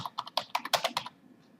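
Quick, light clicking keystrokes on a computer keyboard come in an uneven burst of about ten taps, close and clear, then stop.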